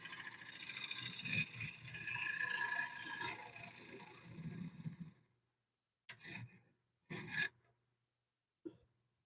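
A scraper shaves an olive wood bowl spinning on a lathe, a steady close rasping scrape for several seconds, then three short separate scraping passes with quiet gaps between.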